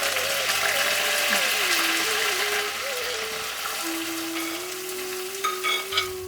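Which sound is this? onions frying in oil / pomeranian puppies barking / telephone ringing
onions frying in oil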